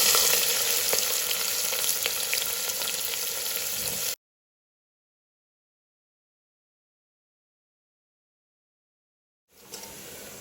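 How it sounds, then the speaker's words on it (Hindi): Two finely cut, thin, long onions fry in hot oil with a loud, steady sizzle. The sound cuts to silence for several seconds, then resumes briefly at the end. "अब हम डालेंगे इसके अंदर 2 प्याज बारीक कटिंग करे वाली"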